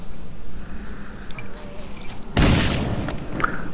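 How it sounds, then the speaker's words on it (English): A mine detonates under a zombie in the game Zombi, giving one sudden loud boom partway through. A high whine and low rumble come before the blast, and a rough roaring decay follows it. "One zombie blown up."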